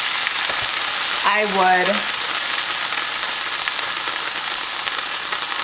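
Slices of bologna sizzle steadily in a hot pan, a constant crackling fry that fills the background while a person speaks a few words over it.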